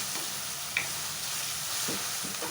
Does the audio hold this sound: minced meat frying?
yes